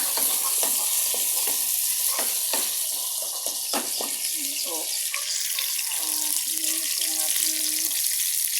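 Sisig fries in a pan at a small morning food stall. The hiss is loud and continuous, with repeated stirring scrapes and clatter, and faint voices or tones are heard in the background.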